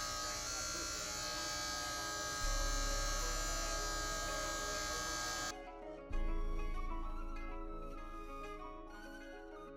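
Electric hair clippers buzz loudly and steadily close by while a low taper fade line is removed, switching off and back on midway; someone talks at points.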